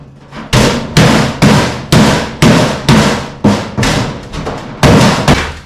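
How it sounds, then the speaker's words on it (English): Rubber mallet blows on a stainless steel hood fan fitted to a BBQ food trailer, about a dozen loud, close thuds in an uneven rhythm, each with a short ringing decay. "We're going to start with a rubber mallet,"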